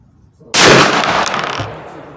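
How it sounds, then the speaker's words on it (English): A single gunshot from a shouldered gun fired without a recoil pad, a sharp, loud blast that breaks the quiet and rings off in a decaying rumble for over a second. "first I'm gonna shoot without the recoil pad"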